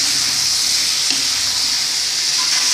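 Moringa drumstick pieces hit hot oil in a frying pan for a vegetable puli kuzhambu, giving a loud, steady, close sizzle that hisses on without a break.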